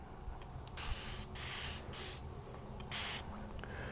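A Flairosol continuous spray bottle used during car detailing lets out several sustained hissing mists, each lasting about half a second to a second, with short gaps between them, close and fairly loud against a quiet room.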